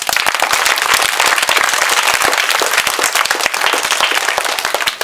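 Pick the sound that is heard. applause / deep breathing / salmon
applause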